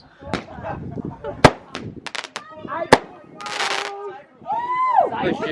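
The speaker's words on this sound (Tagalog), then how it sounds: "tapos na yung fireworks" Fireworks bang in sharp, loud cracks at irregular intervals at an outdoor gathering, one followed by a crackling burst, with people talking and cheering throughout.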